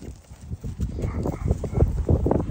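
Horses moving about a field on a windy walk with dogs, a low rumbling wind buffets throughout while soft hoof thuds and shuffling sound close by, with a faint voice in the background.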